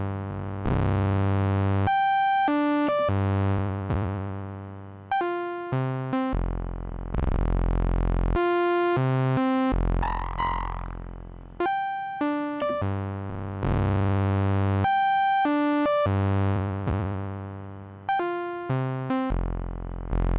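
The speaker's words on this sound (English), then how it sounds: "So we've got the FM frequency with a sine wave." FM synth drone with a sine wave on an LXR-02, heard as loud sustained tones stepping through changing pitches, with rich harmonic buzz and a brief swept wobble midway.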